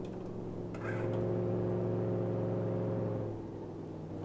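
A car engine in the BeamNG driving simulator revs up on a downshift with a manual transmission, a steady humming drone that swells, holds for a couple of seconds and then falls away, moderately quiet.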